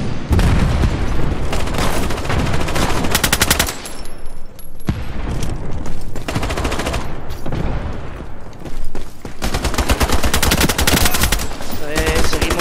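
Gunfire and a grenade explosion in the shooter game IronSight, dense nearly continuous automatic bursts at close range with a heavy boom mixed in and brief pauses between volleys.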